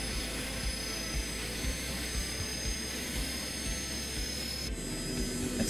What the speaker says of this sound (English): So much flange on the engine